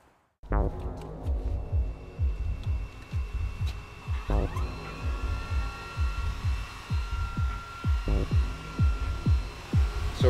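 Desktop 3D printer printing two 30-round gun magazines, its stepper motors making a steady mechanical hum broken by rhythmic pulsing strokes and short whirring moves, close and continuous with no talk.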